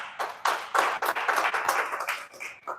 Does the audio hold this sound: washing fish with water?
no